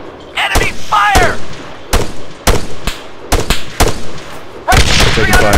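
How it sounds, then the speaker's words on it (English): Gunfire in the Arma 3 video game: a string of sharp, loud single shots and short bursts spaced irregularly, with a denser volley near the end and brief voices mixed in. "Enemy fire!"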